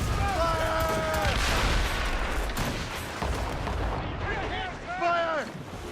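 Ship cannons firing during a naval battle in the video game Assassin's Creed Rogue, heavy booming blasts and rumble mixed with shouted crew voices and tonal calls.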